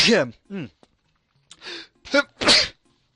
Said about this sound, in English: Damn, sneezing fit.